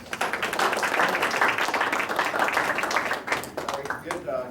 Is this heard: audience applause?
yes